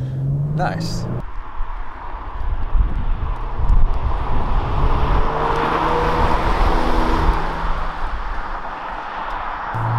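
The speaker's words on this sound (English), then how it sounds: "hard on the brakes. See, downshifting." A Genesis G70 with all-wheel drive brakes hard and downshifts, its engine note shifting close by under wind buffeting, with a brief spoken word from inside the car.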